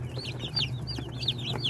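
Day-old broiler chicks in a brooder setup, a steady stream of high, rapid peeping cheeps from several birds close by, with a low hum underneath.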